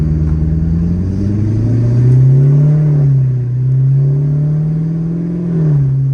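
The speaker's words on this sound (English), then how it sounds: "there's no valves, guys. This exhaust is just loud" A rebuilt Corvette engine drones loudly through an unmuffled, valveless exhaust, its low rumble rising and falling slightly as the revs shift, steady and close.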